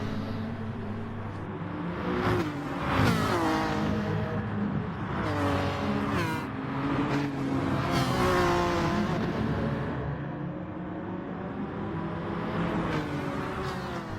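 Race cars, including a Ferrari and a Honda NSX, battle at Interlagos in Gran Turismo Sport, with continuous engine roar rising and falling through rapid gear changes and revving, loud and close, with no talking.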